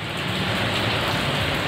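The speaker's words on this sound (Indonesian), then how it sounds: "Tapi karena hujan kita berteduh dulu ya." Steady rain pouring down outdoors near a market, a dense, loud, unbroken hiss with no distinct drops or pauses and no voices.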